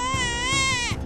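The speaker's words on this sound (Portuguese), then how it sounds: "Que barulho é esse? Parece que tem um bebê." An abandoned infant girl cries in one sustained, high, wailing burst, loud and close, with no talking.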